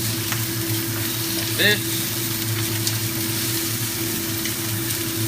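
Fatty pork belly stir-fried in a pan, a steady sizzle with a constant hum beneath and one brief scrape of the spatula, while a person says a few words.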